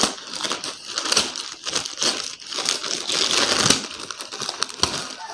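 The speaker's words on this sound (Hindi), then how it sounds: "मैं इसे काट दे रहा हूँ फ्रेंड्स कैंची से" Scissors cutting through a product's plastic packaging during an unboxing, a close, loud run of crinkling, crunching snips with brief pauses and no talking.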